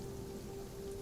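Steady rain near a dam, a continuous soft hiss of falling water throughout with a faint constant low tone, no talk.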